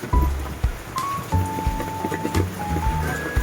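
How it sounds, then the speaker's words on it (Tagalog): Heavy rain pours steadily during a rainy-season downpour, a loud continuous hiss of drops striking surfaces close by, with some background tones and thumps. "Lakas na ulan."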